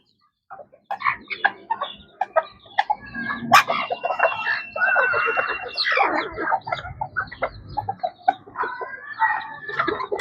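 White Leghorn hens and chicks cluck and cheep close by in a steady, busy chatter that continues almost without pause, with a rooster's call in the mix.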